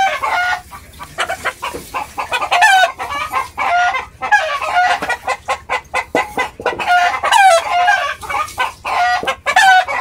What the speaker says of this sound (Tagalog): Putak-putak ang manok na parang may merida ito.